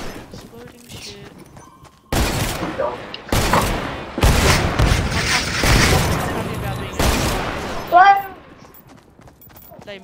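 Explosions in Fortnite prop hunt, several loud abrupt booming blasts in separate bursts spread over the stretch, with a voice talking in the quieter gaps before and after.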